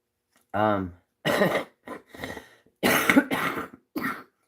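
A few harsh coughs come in bursts with short gaps between them, close and fairly loud, and a brief voiced sound comes near the start.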